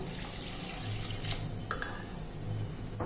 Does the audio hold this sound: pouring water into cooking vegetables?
yes